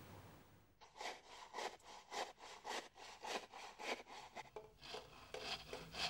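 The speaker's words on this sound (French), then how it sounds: "Cet homme à la scie" A man works a hand saw through wood in a remote Tibetan village, a steady run of rhythmic rasping strokes, close and alone, with a brief pause before the cutting begins.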